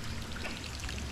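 Water runs from a garden hose in a steady, close splashing stream, an unbroken rush at constant loudness with no voices.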